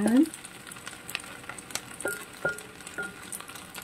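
Yakisoba noodles with spam and vegetables fry in a pan, a steady soft sizzle broken by a few sharp clinks and scrapes of stirring, close and moderately quiet with no talking.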